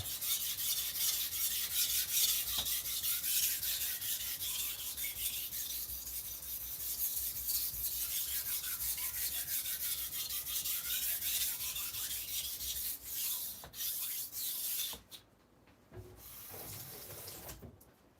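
A knife scraping back and forth on a wet sharpening stone, a steady raspy hiss of repeated strokes, close and continuous, pausing briefly near the end before resuming more softly.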